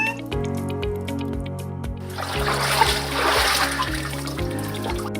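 Water runs from a household faucet as a steady, splashing stream that starts partway through, under background music.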